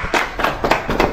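An audience at a community gathering in Ghana claps in a few loud, close bursts, forming a short rhythmic patter with no talking.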